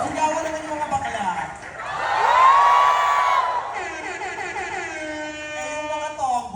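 Live Pride show audience of gay fans screaming, whooping and cheering loudly, the crowd roar swelling to a peak mid-way, with a host's voice around it.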